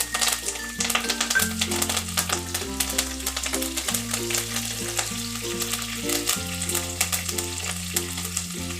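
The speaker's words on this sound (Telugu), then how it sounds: "ఇవి వేగిన తర్వాత నేను పచ్చిమిర్చి కరివేపాకు వేసుకుంటున్నాను" Green chillies and curry leaves crackle and sizzle in hot oil with fried lentils for South Indian coconut rice, a busy, close popping spatter with a steady hiss and no talking.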